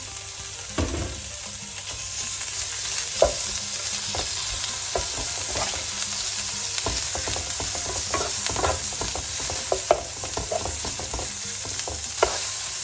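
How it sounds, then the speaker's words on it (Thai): Pork and garlic stir-fried in a pan, a continuous loud sizzle broken by repeated scraping and clacking of a spatula against the pan throughout. "ใส่หมูเข้าไปเลยค่ะผัดหมูให้สุกนะคะเนาะ คนเนาะ"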